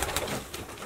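Pigeons cooing in a bird keeper's loft, a soft continuous murmur of low coos from several birds close by, with no voices.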